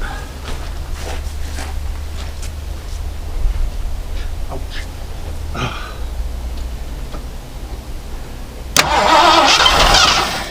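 An abandoned 1978 Lincoln Town Car that has sat for years is cranked: faint ticks and clicks over a steady low rumble, then a sudden loud burst as the engine catches and fires up close by.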